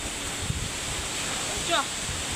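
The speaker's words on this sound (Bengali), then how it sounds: "কি খুব জোর হাওয়া চলে এসেছে।" Strong wind roars in a broad, steady rush during a spring rainstorm, loud and close to the microphone, with a brief voice-like sound near the end.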